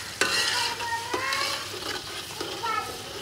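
Onions with salt sizzle loudly in a pot for Pakistani pulao while a spoon scrapes and stirs through them in several strokes, with a constant bright frying hiss underneath.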